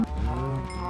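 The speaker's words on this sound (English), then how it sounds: "All but a few of these cows must die." A cow in Minecraft, from the FTB modpack, gives one steady, fairly close moo lasting about a second, with no other sound around it.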